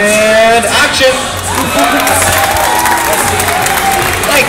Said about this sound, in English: When I yell action, don't forget the thunderous applause for yours truly.